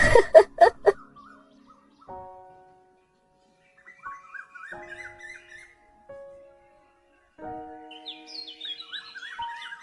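Small bird chirping near its nest, heard as a few sharp calls at the start and then clear whistled tweets and warbling phrases, fairly close, with short quiet gaps between them.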